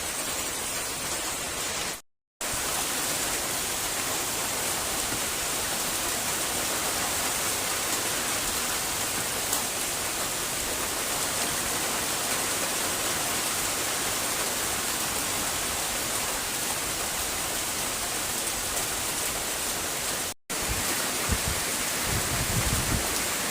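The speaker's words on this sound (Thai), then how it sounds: "ไม่ทราบว่าท่านผู้ชมพอที่จะได้ ยินเสียงฝนตกไหมครับ หนักหนาเม็ด" Heavy, large-drop rain pours down steadily through the night on a hammock camp, a dense unbroken hiss that stays loud and even from start to finish.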